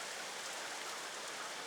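Hail falls steadily outdoors as a soft, even hiss of countless small impacts, faint and continuous with no voices.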